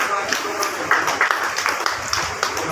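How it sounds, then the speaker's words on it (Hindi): Applause at a Guru Purnima honouring and donation ceremony, a crowd clapping steadily for about three seconds with dense, continuous broadband patter and a few sharper accents, voices mixed faintly underneath. "उनके लिए भी तालियां"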